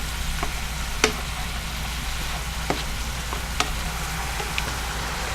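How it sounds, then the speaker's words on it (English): Sausage cooking in a hot pan for a keto sausage and broccoli rabe dish gives a steady, soft sizzle with a few sharp pops and clicks scattered through it. "The sausage has to cook down a little bit more."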